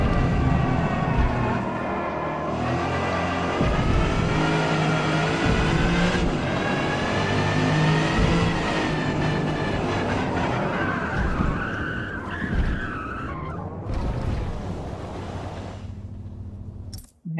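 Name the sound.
race car engine and tyres skidding in video game Forza Motorsport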